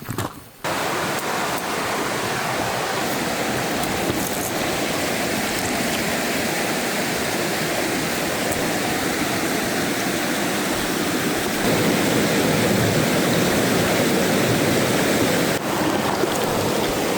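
Stream water rushing steadily on Vancouver Island backroads while a flexible water jug is filled, a continuous broadband gush, close and loud throughout, growing slightly louder near the end.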